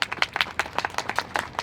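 A crowd at a demonstration against Daech claps in applause, a close cluster of sharp, slightly uneven hand claps that holds fairly steady through the short stretch.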